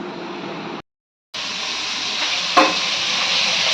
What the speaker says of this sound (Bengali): এইখানে আমাদের কলা ভাজা হচ্ছে মাছের ঝোলের জন্য এইদিকে বাটা মাছগুলো ভাজা হচ্ছে